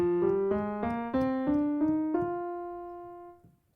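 A plucked chord with a sixth-note scale variation, notes rising step by step over a sustained tone, ringing out and fading after about three seconds, quiet and solo.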